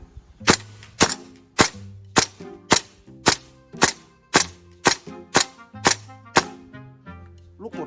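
An MK18 gas blowback airsoft rifle fires in semi-auto, giving about a dozen sharp, loud cracks at a steady even rhythm, each with a short metallic ring.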